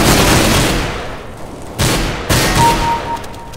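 Counter Strike gunfire, a sniper rifle among it, comes as a loud sustained burst of shots fading out, then two more sharp, close blasts, each with a ringing tail.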